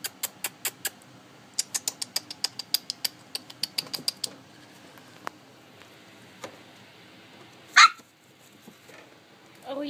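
A run of quick light clicks and tapping comes first, then a single high, sharp puppy yip rings out near the end.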